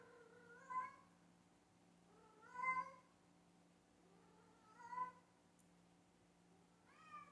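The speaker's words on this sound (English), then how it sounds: "Pardon the cat." A cat meows four times in a quiet indoor room, each call a clear, rising-and-falling cry spaced about two seconds apart over a faint steady hum.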